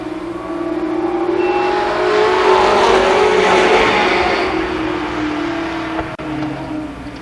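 IMCA modified race cars roar down the backstretch of a third-mile oval at Columbus Motor Speedway, a loud sustained engine drone swelling and fading as the pack passes, with no speech.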